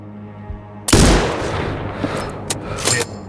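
A sniper rifle fired at a training target in Sniper Ghost Warrior Contracts 2, one loud sharp crack followed by a long rolling echo that fades, with a few faint clicks afterward.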